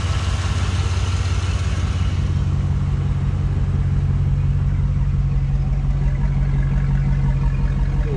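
A 2004 Chevrolet SSR retro convertible with dual exhaust idles steadily, a low smooth engine hum held close and continuous throughout with no talk over it.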